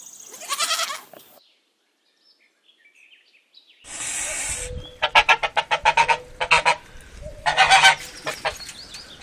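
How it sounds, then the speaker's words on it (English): A farm goose honks in several bursts of loud, nasal calls, with an early call, a pause, then a rapid run of repeated honks close to the microphone. "Goose."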